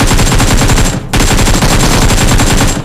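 Sustained automatic AK rifle fire in the mobile battle royale game PUBG Mobile, two long loud bursts split by a brief pause, dense and continuous with no talking.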